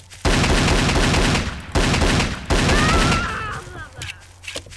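Rapid video-game gunfire from Garry's Mod, dense bursts of shots that stop twice and resume loudly, then thin out with a few tonal sweeps near the end.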